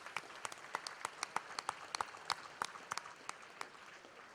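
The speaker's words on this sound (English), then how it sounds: "So a big round of applause to all of you, and job well done for getting here this year." A small group applauds at the 2020 WESPY Awards ceremony, with distinct, separate claps in an uneven rhythm, fairly close and moderately loud, with no voices over them.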